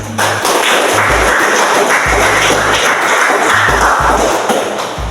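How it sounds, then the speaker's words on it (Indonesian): Loud, sustained classroom clapping for the final student group, a dense broadband patter punctuated by repeated low thumps as of hands or objects knocking on desks. "Berikan tepuk tangan untuk kelompok yang terakhir."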